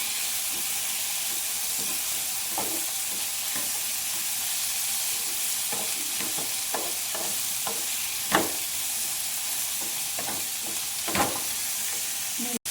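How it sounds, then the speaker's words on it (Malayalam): Tomatoes frying with softened onions in a pan give a steady close hiss and sizzle, broken by occasional scraping stirs and light clinks against the pan, with no talking. "അപ്പോൾ നമുക്ക് തക്കാളി ഇട്ട് കൊടുക്കാം."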